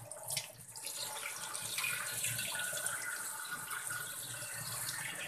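Tap water runs steadily into a household water can being filled for cleaning, a continuous hissing splash at moderate level without any talking.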